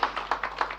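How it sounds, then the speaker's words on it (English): Audience applause during a Nigerian stock exchange listing ceremony for Aradel Holdings on NGX: a short run of sparse, uneven handclaps at moderate loudness, with no one speaking. "we can give him a round of applause anyway, right?"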